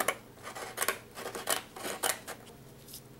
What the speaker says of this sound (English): So I'm just going to cut out a piece of the lace.